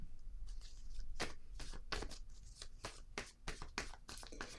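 Tarot cards are shuffled by hand for a reading, producing close, soft riffling swishes and repeated slapping taps in an uneven rhythm over a quiet room hum.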